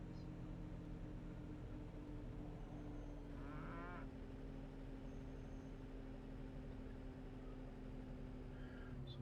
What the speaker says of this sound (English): get our cattle out.